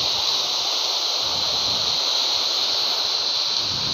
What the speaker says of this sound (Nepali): अनि यो कृत्रिम झरना हो। ओ यति सुन्दर छ नि यो झरना